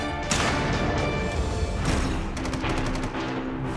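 A submachine gun firing in loud rapid bursts, dense continuous cracks of gunfire close by with a distinct burst of rapid rounds toward the end, no talking.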